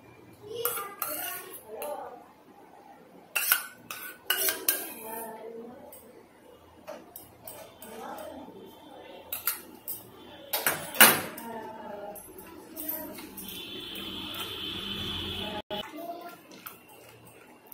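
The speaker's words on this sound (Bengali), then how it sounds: "ভালো করে মিশিয়ে নেব আম আর দুধটাকে।" A spoon stirring mango pulp into milk in a dish: light, irregular clinks and scrapes of metal on the bowl, close and soft, with occasional voices in the background.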